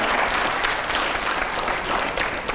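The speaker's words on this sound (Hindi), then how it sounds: "जोरदार तालियां हो" Loud, dense audience applause fills a studio discussion show, a continuous close wash of clapping with no pauses.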